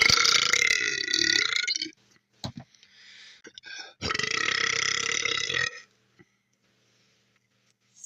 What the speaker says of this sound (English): Why'd you burp on my eye?